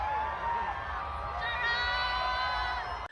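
A crowd at the Formula 1 Singapore Grand Prix cheers and whoops steadily, a dense wash of voices with higher shouts rising above, sustained and fairly distant, ending abruptly.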